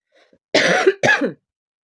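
Two harsh coughs in quick succession, close and fairly loud, with a faint breath just before.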